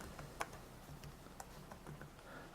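Light keystrokes on a computer keyboard as a library search is entered, a sparse handful of faint clicks and ticks at uneven spacing, quiet and close, no speech.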